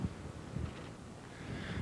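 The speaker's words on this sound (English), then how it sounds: "It is not only a very windy day here" Wind gusting along the Israeli-Lebanese border, a steady broadband roar with buffeting thumps against the microphone, loud and continuous with no voices.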